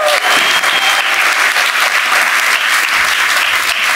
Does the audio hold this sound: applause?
yes